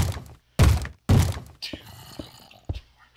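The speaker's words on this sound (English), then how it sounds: "They're going to start banging on the door down there." Heavy wooden door thuds in the Minecraft video game, two loud blows followed by softer knocks, with a few faint background game sounds between them.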